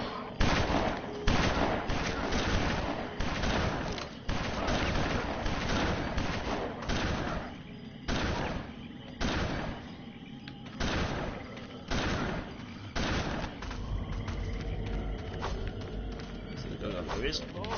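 Two guns firing at once in BloodRayne: long stretches of rapid, loud automatic fire broken by short gaps, with someone speaking over the shooting.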